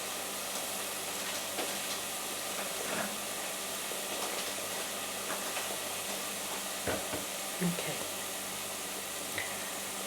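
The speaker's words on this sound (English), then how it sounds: "so as the onions are frying" Onions sizzle and fry in a pan for Punjabi basmati rice, a steady soft hiss with faint crackles and a few small clinks, while a voice talks briefly near the start.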